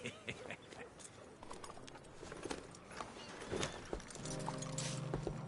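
A horse clip-clops at a steady walking pace in a PS4 video game, the hoofbeats moderately close over a busy game soundscape with ambient noise, and a sustained tonal hum rising near the end.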